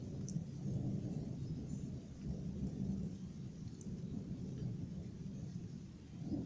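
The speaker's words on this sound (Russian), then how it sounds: "Дождик тоже усиливается." Steady rain during a village thunderstorm, a dense even wash of falling water with low rolling rumbles beneath, continuous and fairly close with no talking.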